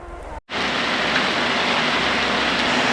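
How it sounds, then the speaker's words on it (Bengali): Heavy rain pours down steadily during a bike trip in Belpahari. It makes a loud, continuous, dense hiss after a brief gap at the start. "পুরো ঝমঝমিয়ে বৃষ্টি নামেছে"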